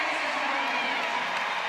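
At a CrossFit semifinal event, a family cheers on athlete Justin, their voices blending into a steady, fairly distant crowd roar beneath a commentator's talk.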